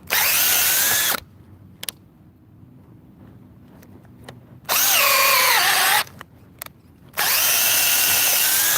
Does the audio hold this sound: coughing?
no